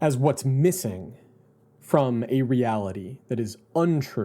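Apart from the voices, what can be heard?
No everyday noises stand out.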